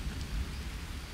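Rain falls at night in the jungle survival game Green Hell, a soft, even hiss of drops with a low rumbling undertone, faint and continuous with no voices.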